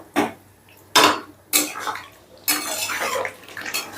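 Chicken and tomatoes being stir-fried for Punjabi chicken curry, with four bursts of scraping and clattering against the pan. The last stretch runs longer and steadier, with soft background noise between strokes.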